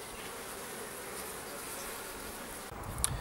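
Honeybees in an allotment hive during an inspection, producing a steady, dense buzzing drone close by that holds evenly throughout, with a brief handling knock near the end.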